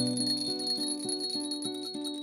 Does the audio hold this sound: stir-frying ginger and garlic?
no